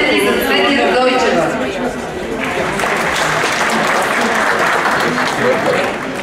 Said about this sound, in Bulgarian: А сега вашите аплодисменти за Цвети Радойчев.